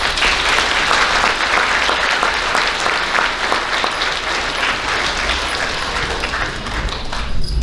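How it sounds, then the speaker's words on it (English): Elementary school awards ceremony audience applauding students, steady dense clapping from a large crowd throughout, close and loud without speech. "Let's give those students a round of applause."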